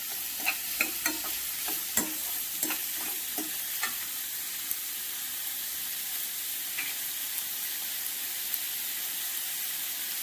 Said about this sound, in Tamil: இப்போ ஃபுல் ஃப்ளேமில் வச்சுக்கோங்க. அப்போதான் வெங்காயம் நல்லா பொரிஞ்சு வரும்